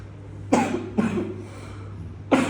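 Three sharp coughs from one nearby person with a chronic cough, the first two close together and the third after a pause, over a steady low hum.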